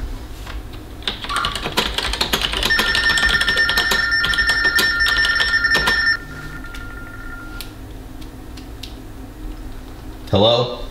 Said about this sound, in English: I'm gonna make them call my cell phone.